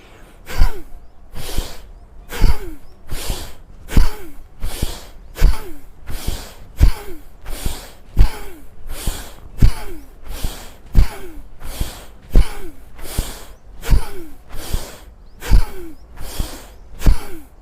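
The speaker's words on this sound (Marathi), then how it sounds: "झटक्याने हात खाली घेताना श्वास फेकायचा आहे बाहेर" Bhastrika pranayama, a forceful yogic breathing exercise in which breath is thrown out sharply as the arms drop: about twenty hard, snorting exhalations in a steady, evenly spaced rhythm, close and loud, with no talking.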